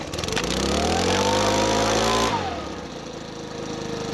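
A petrol leaf blower's small engine runs loud with its pitch rising and settling, then drops abruptly into a quieter, steady idle.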